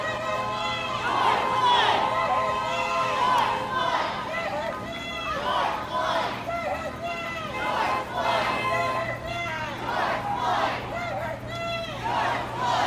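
A large crowd of protesters passes by at the California Capitol in Sacramento, chanting and shouting in continuous rhythmic waves of many voices, loud and close, with steady background hum.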